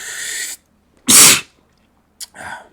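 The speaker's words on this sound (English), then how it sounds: "Sneezing coming." One loud, sharp sneeze bursts out close to the microphone between stretches of game sound, followed by a brief breath or sniff.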